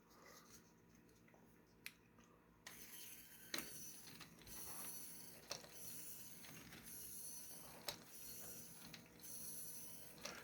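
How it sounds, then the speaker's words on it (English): A small 30 RPM motor drives a mechanical toy claw walker, giving a quiet, steady mechanical whir broken by periodic clicking ratchet-like snaps from the moving linkage, all alone without talk. "This is just a 30 RPM motor."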